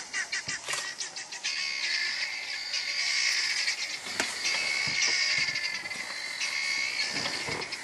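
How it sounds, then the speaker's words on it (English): Guinea fowl calling in alarm after spotting an eagle in the African bush, a flock's rapid, raucous chattering cackles rising and falling continuously, fairly close and loud, with no talk over it. "Guinea fowl. They have seen the eagle."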